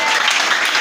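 Church congregation applauding and cheering for God during a French-language worship service, a dense, steady wash of clapping and voices filling the room without break.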